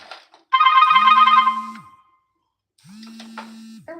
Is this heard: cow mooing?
no